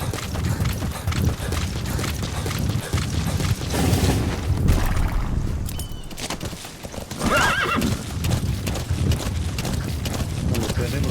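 Horse hooves clip-clop steadily in the Metal Gear Solid V video game, with whinnying and a neigh, loud and close over a dense game soundscape of rumbles and effects, with voices heard briefly.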